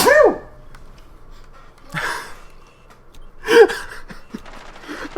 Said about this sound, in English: that was a nuclear sneeze